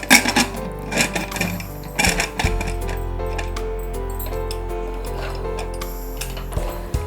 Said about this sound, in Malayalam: ഇനി കുക്കർ അടയ്ക്കുന്നു.